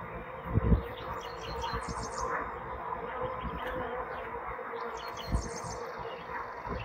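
Honeybees buzz around an opened Huber leaf hive, a dense, steady close drone with a couple of louder thumps and faint bird chirps in the background.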